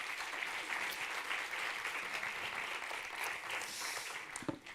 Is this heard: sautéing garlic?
no